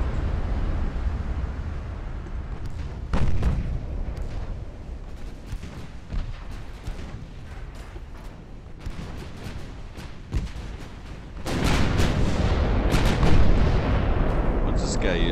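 Naval guns on warships fire in the battleship game Ultimate Admiral: Dreadnoughts, with repeated booming salvos and rumbling blasts, the heaviest barrage near the end, under brief faint game ambience.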